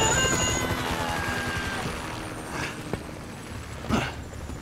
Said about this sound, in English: Can you hear that? Chopper,